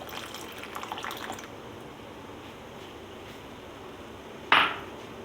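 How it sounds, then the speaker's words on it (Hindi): Vinegar is poured into thickening homemade mint syrup, a short soft trickle followed by quiet and then a single bright clink of a utensil. "अभी इसमें मैं सिरका डालूंगी"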